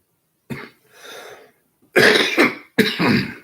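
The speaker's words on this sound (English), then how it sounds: "I've coughed a lot today." Three harsh coughs and throat-clears, close and loud, separated by brief silences.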